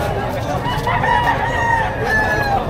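A rooster crows in a long drawn-out call at a busy chicken market in Padre Garcia, Batangas, loud and close over a constant crowd murmur and background chatter.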